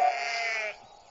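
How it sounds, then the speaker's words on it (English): A single sheep standing on railway tracks lets out one clear, nasal bleat lasting under a second, close and loud, then falls quiet. "There were sheep on the tracks."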